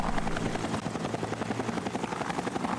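Steady helicopter rotor chop with engine whine from a rescue helicopter in the game Mission Luftrettung, loud and continuous throughout with no voices.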